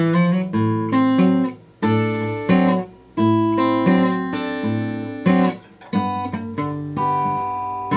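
Plucked guitar notes ring out in a repeating pinch fingerpicking pattern, bass and treble strings sounding together, with brief pauses between phrases.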